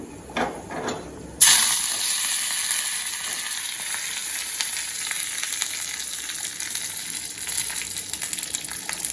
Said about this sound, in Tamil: இதில் நம்ம எடுத்து வச்சிருக்க கருவேப்பிலையை சேர்த்துடலாம்.